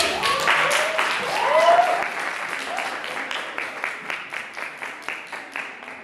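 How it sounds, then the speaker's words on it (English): Audience applause for a judge at a school science debate during National Science Week, a steady patter of clapping that thins into distinct, rhythmic claps toward the end, with a voice briefly heard early on. "Let's give her a round of applause."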